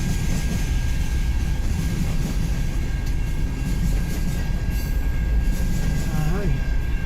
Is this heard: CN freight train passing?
yes